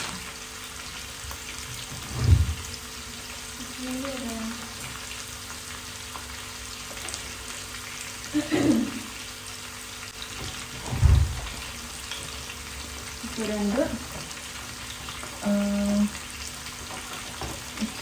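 Green chillies and a few garlic cloves frying in oil in a kitchen pan, a steady soft sizzle broken by several sharp clanks and scrapes of stirring spaced across the stretch, with no talking.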